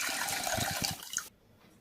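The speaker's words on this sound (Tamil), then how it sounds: "இதை நல்லா கழுவிட்டு தேவையான அளவு தண்ணி ஊற்றிக்கலாம்" Water sloshes and splashes in a bowl as roasted vermicelli and sago are rinsed and topped up with water, a short burst of splashing that cuts off abruptly into quiet.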